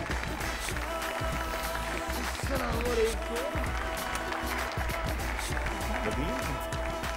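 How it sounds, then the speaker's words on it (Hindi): A studio audience on a TV talk show claps to welcome a 12-year-old guest onto the stage. The dense, steady applause runs throughout with a voice and tonal sounds mixed in. "आप सब की बहुत ज्यादा तालियों में प्लीज वेलकम अनसा द पायलट"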